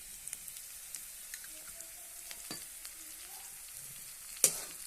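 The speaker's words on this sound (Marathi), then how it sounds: "त्यानंतर कढीपत्ता टाकूया परत थोडस तेल टाकूया" Curry leaves dropped into hot oil with a little more oil added give a faint, steady sizzle and hiss, with a single sharp clatter near the end.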